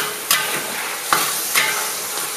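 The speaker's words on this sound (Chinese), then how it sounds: "现在大火把鸡块炒匀，让鸡块都充分蘸上这个酱料" Chicken pieces are stir-fried over high heat with cooked soybean paste and dark soy sauce in an iron wok, giving a steady close sizzle with a few sharp spatula scrapes and clacks.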